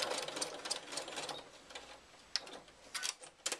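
A domestic sewing machine runs in a steady mechanical clatter while stitching batik lining fabric for an iPad case, with small ticks and pauses as the needle slows and restarts.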